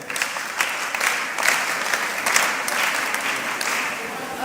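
An audience at a mentorship session claps steadily, a moderately quiet, even patter of many hands lasting several seconds with no voices over it.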